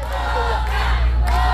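A loud concert crowd cheers and shouts, a dense, sustained roar of many voices close around the listener with no break.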